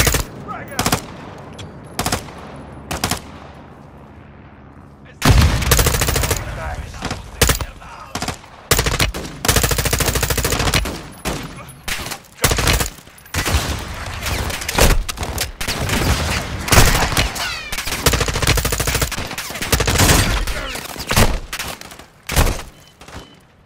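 Intense automatic gunfire in Call of Duty Modern Warfare 2 during a cartel protection mission, quieter scattered shots at first, then dense loud bursts of rapid fire and thuds dominating the rest.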